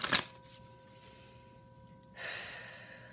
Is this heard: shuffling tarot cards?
yes